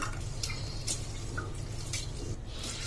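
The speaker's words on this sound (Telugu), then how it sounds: "ఇప్పుడు మనం కొద్దిగా వాటర్ వేసుకొని క్లీన్ చేసి పెట్టుకోవాలి" Moong dal being rinsed in water, with irregular splashes and drips against a constant noisy background, no talk.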